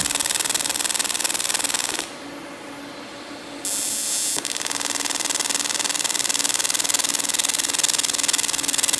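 An AC TIG welder at a low 20 Hz frequency runs a bead on aluminum, giving a steady harsh buzzing crackle. The arc is interrupted briefly partway through, then resumes, close and continuous.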